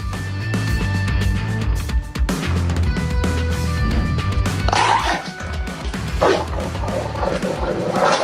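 Dog barking over a loud continuous background with low rumble, a muscular guard-type dog giving repeated yips and barks that stand out most clearly in the second half.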